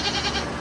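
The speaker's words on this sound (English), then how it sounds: "That is a big goat." A big goat bleats once, close and loud, a short wavering cry cut off after under a second.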